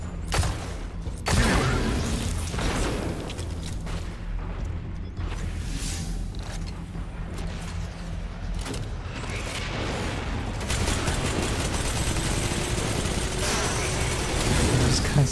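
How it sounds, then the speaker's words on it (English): Hand cannon gunfire in Destiny 2 gameplay: repeated booming shots and heavy impacts over a dense bed of game effects and mechanical noise. The shots are loud, close and irregularly spaced. "And try out the hand cannon."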